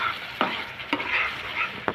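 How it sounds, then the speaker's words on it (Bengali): A spoon stirs tomato pickle in a frying pan with oil, crumbled dried chili and roasted cumin powder, making three distinct scraping strokes over a faint, steady sizzle. "ভালো করে নেড়ে চেড়ে নিব।"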